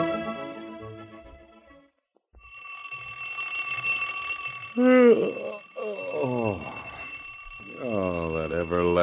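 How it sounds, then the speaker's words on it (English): An alarm clock rings in an old radio drama, a shrill sustained bell that runs through most of the moment, with voices and groaning sounds over it partway through. "Oh, that everlasting alarm clock."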